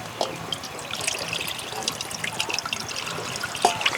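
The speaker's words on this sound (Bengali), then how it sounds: "দশ মিনিট পর আবারও একবার মাছ ধুয়ে নেব।" Koi fish being rinsed in water while preparing a steamed koi dish, with a steady close trickle and splash of water and small sharp clinks throughout, no talk.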